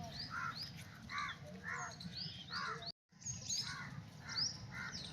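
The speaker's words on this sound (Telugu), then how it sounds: "పక్షి." Birds call at Hyderabad zoo. Repeated crow-like caws and chirps come from a middle distance over a low background hum, with a brief dropout partway through.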